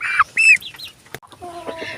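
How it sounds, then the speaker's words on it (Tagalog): Close native and hybrid Brahma chickens clucking and squawking in short bursts in their coop, several birds calling over one another. "ito ang bahay ng mga native chicken ko"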